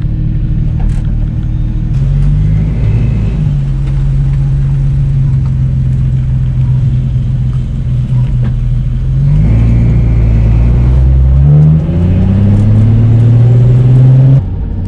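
A car pulling up nearby, its engine rumbling loud and close with a steady low drone that rises and falls as it revs and shifts, continuous throughout without speech.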